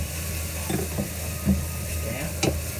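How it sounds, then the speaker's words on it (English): Garlic and ginger sautéing in a pan, a steady low sizzle with a few soft stirring scrapes and clinks, close and fairly quiet, no talking. "and we have to saute garlic"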